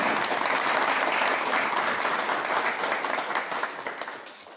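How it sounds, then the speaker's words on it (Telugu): A crowd applauds loudly and steadily, the clapping thinning out and fading toward the end. "దీనికి చప్పట్లు గట్టిగా కొట్టాలి"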